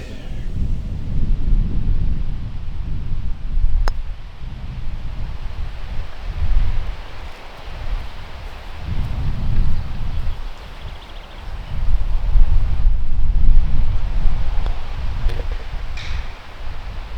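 Gusts of wind batter the microphone on a golf course with low rumbling bursts that swell and fade repeatedly, loud and close, with no other clear sound.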